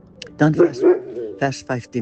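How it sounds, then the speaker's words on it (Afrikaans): A pet dog barking in short, sharp yaps at home, loud and close, overlapping with someone speaking Afrikaans. "ekskuus vir my hond wat blaf."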